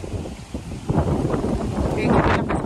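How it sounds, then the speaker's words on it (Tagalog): Strong wind buffets the microphone in loud, rough gusts throughout at the Tai Po waterfront in Hong Kong, rumbling steadily with no voices. "Medyo malakas pa yung hangin ngayon dito."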